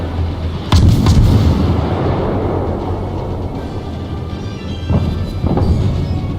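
Heavy naval guns fire in the warship game World of Warships as a British cruiser takes artillery hits, bringing loud booming blasts followed by a long rumbling roar, with another pair of heavy thuds near the end.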